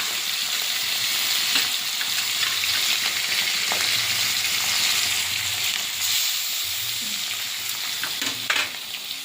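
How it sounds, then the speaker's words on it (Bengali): Hilsa fish roe frying in hot oil in a village kitchen, with a steady, dense sizzle and hiss that continues throughout and occasional soft stirring scrapes close by. "ডিমটাও ভেজে নেব মাছের ডিম ছিল"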